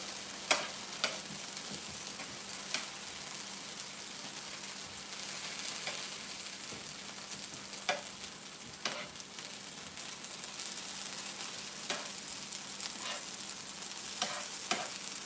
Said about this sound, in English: I have some diced potatoes here that I'm frying up